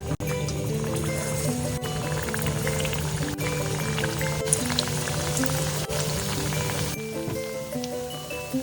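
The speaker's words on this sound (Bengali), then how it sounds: "কড়াইয়ের তেল এখানে উষ্ণ গরম হয়ে গেছে এবার আমি আস্তে আস্তে এক এক করে সিঙ্গারাগুলো দিয়ে দেবো" Spinach and paneer samosas fry in hot oil in a wok with a continuous, dense bubbling sizzle, steady and close, broken by a few faint clicks.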